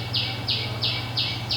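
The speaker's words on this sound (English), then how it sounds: "You can also hear the birds." Repeated high chirps sound in a steady rhythm, about four or five bursts, over a constant low hum in an echoing room.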